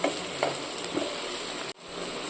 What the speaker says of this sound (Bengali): পেঁয়াজটাকে একটু ভাজা ভাজা করে নিচ্ছি